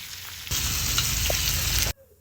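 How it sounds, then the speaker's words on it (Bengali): Fish roe pakora dropped into hot oil, with a steady loud sizzle and crackle of deep frying that starts abruptly, holds for about a second and a half, then cuts off. "বড়ার মতো ভাজতে দেবো তোমার। এখন মাছ দিয়ে দেবো।"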